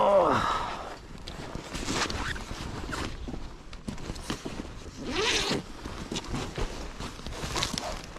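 A bag zipper rasps open in several quick pulls as a backpack is taken off during a rally motorcycle trip stop in Scotland, with some rustling and heavy breathing between the pulls.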